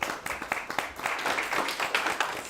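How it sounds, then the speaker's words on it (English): Brief burst of clapping from a meetup audience welcoming a speaker at a Kubernetes and cloud native gathering in Berlin, several close hand claps rising into short, scattered applause. "let's welcome our next speaker for the night with a huge round of applause."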